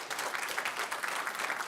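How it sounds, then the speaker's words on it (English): Steady applause from an audience at a city council meeting in Lee's Summit, Missouri, following a proclamation, a dense even patter of many hands lasting throughout with no talk over it. "All right, can I get an applause,"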